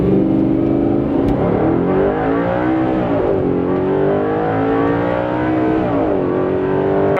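A car engine in manual sport mode revs hard and close, its pitch climbing, dipping between shifts and climbing again in a continuous loud run.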